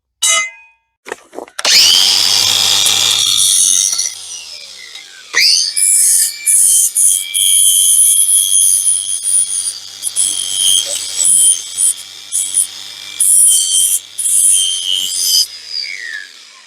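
Flap wheel grinding metal on a 1976 Vermeer LS200 log splitter, a short clatter of start-up then a loud high-pitched grinding whine in repeated bursts with brief pauses between passes.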